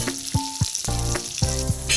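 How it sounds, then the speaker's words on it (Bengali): Pieces of pointed gourd frying in hot oil in a wok, a close, crackling sizzle with a few tonal clinks and knocks mixed in, no voices. "পটলগুলোকে ভালো করে ভেজে নিচ্ছি"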